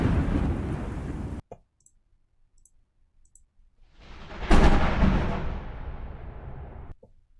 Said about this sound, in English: I've got some thunder sounds that I thought would be really good for what we're doing